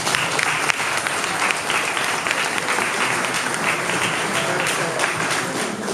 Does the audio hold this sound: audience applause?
yes